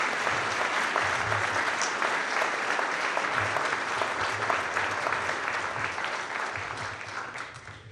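An audience at a book talk applauds steadily for about eight seconds to welcome author David Sanger, dense clapping that holds level and then tapers slightly at the end.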